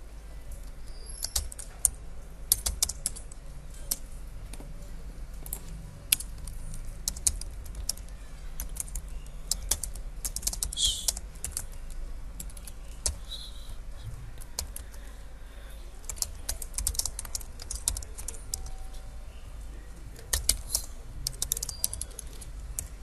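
Steady computer-keyboard typing of a product description, continuous close-up key clicks in irregular bursts across the whole stretch, with a faint background hum and no voice.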